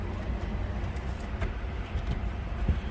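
A Nissan car with a faulty air conditioner starts up. A low engine rumble is heard up close, with a few clicks and rattles over it.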